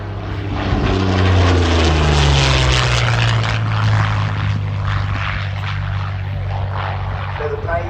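A Supermarine Spitfire LF XVIe or Curtiss Kittyhawk Mk1A propeller warplane roars past at an air display, a loud, sustained engine drone whose pitch sweeps downward as it flies by, with a voice talking underneath.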